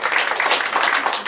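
Live audience applause at a bar and grill comedy show, a dense, steady wash of many hands clapping throughout, fairly close and loud with no gaps.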